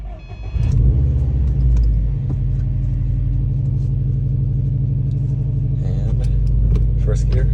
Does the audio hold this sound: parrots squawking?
no